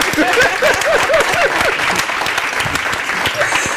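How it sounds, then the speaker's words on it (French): A studio audience on a Burkina Faso national television lunchtime talk and quiz show applauds a guest, dense steady clapping throughout, with a voice talking over the start. "Eh bien, Applaudis pour lui."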